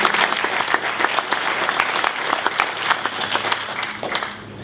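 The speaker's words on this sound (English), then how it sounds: "Can we get a round of applause for the other speakers today?" A conference audience at a keynote in Johannesburg bursts into steady, dense applause for the speakers, many hands clapping loudly and continuously before it fades toward the end.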